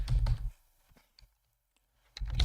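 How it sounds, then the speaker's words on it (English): Short bursts of clicking keys on a computer keyboard, a quick flurry at the start, a few isolated taps in the near-silent middle, then another rapid burst at the end. "desperately trying to type here and it's not working"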